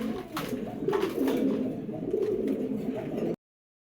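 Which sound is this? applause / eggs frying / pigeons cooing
pigeons cooing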